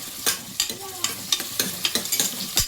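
Chopped onions frying in hot oil for mutton leg soup, a steady sizzle punctuated by a quick run of rhythmic spatula strokes and scrapes, close and fairly loud with no speech.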